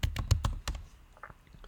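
Quick bursts of typing on a computer keyboard to log in, a fast cluster of close key taps followed by a few lighter, scattered presses, quiet and alone.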